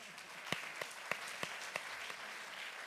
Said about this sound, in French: on peut l'applaudir très très très fort